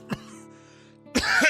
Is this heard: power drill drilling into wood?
no